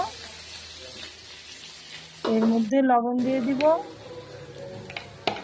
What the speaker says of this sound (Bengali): পেঁয়াজগুলো দিয়ে দিচ্ছি। দিয়ে ভালো করে নেড়ে